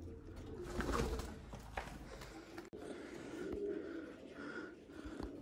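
Pigeons cooing inside an abandoned church, soft low repeated coos with breathy murmurs that fade and return, heard alone in a reverberant space.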